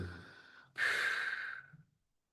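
A deep breath drawn slowly in through the nose during a guided relaxation lying on the back: a soft near hiss that swells into a long airy inhale, then fades out to silence.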